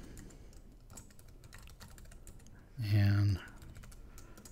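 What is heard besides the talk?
typing a name on a computer keyboard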